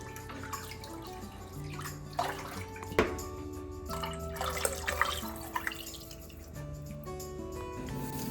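Cups of water are poured into a pot of white bean and kale soup, giving close, splashing and trickling bursts that stop and start, with tonal music underneath.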